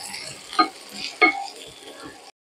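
Oil sizzles in a pan as chopped red chillies fry for a spicy garlic fish sauce, a soft steady crackle with a few sharper stirring scrapes, ending abruptly.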